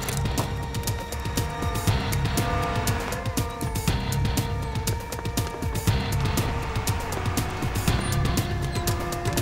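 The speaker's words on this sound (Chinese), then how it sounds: "日本人的电瓶车" A Japanese battery-powered car drives in a wartime drama scene: a steady engine and rolling vehicle noise with clattering, rattling mechanical detail throughout, close and fairly loud, with no talk.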